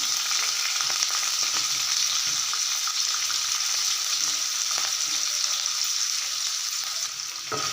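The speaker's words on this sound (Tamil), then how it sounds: "எண்ணெய் சூடாயிருச்சு இப்போ இந்த தோலை இதில் நல்லா போட்டு வதக்கிக்குவோம்" Green vegetable peels sauté in hot groundnut oil, a steady close sizzle and crackle with faint stirring scrapes throughout, no voices.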